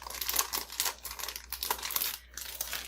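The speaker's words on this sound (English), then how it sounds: "This is one that's made with tape in a bag." Close, busy crinkling of a plastic bag on a tape-made marble maze fidget, with irregular rustles and crackles that come in bursts and leave short gaps between them.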